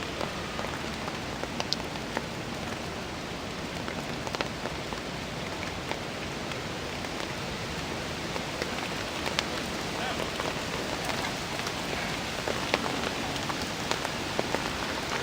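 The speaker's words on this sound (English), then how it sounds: "Okay, it rained on me again." Steady rain falls continuously, a dense hiss with scattered sharper drops tapping on a nearby surface, even and unbroken for the whole stretch.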